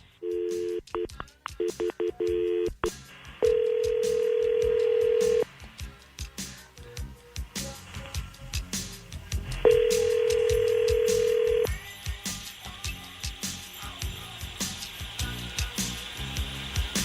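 Touch-tone dialing on a telephone for a prank call: a quick series of dual-tone beeps, then two long steady ringing tones separated by a pause, loud and close over faint background noise.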